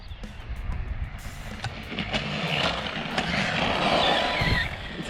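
Rustler 4x4 RC car with a 13t pinion running hard, its electric motor whine rising and falling over broadband gravelly rumble and wind, fairly close and continuous with no talk.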